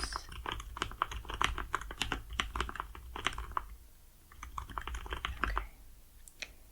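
Close, crisp keyboard typing comes in quick irregular bursts of clicks with a short pause partway through, and one soft word is spoken briefly.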